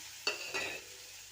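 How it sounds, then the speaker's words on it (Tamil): Tomatoes and onions with green chillies stirred in a hot pan for an egg gravy, a sudden scrape and sizzle burst followed by a second stir, then a soft continuous frying hiss, close and moderately quiet. "தக்காளி வெங்காயத்தெல்லாம் நல்லா கிளறி விட்டுக்கலாம்."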